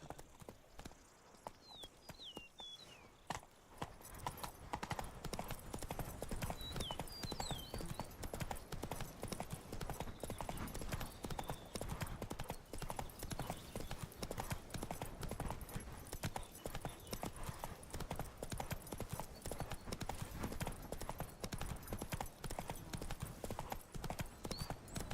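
Horse hooves clip-clop steadily in The Witcher 3 video game, a continuous quick rhythmic trot heard close and fairly quiet, with soft game ambience and brief speech early on.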